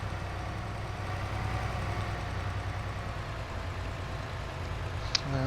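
A MAN TGS truck engine in Farming Simulator 22 idles at a steady, moderately loud level, a continuous low mechanical drone with a brief click near the end.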